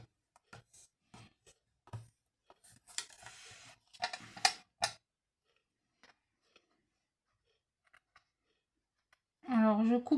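Scissors snip paper during a children's craft of cutting and gluing, a series of short sharp clicks spread over several seconds, close and fairly quiet, with someone speaking French between and around the cuts.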